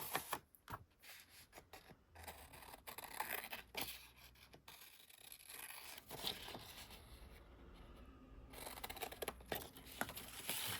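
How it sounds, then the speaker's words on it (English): Scissors snipping through paper while making a handmade zine, a series of close, crisp cuts and rustles with short pauses between strokes. "Scissors."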